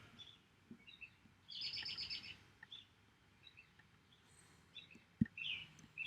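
Small birds chirping in short, high bursts, some near and some farther off, spaced across a quiet outdoor background with no talking.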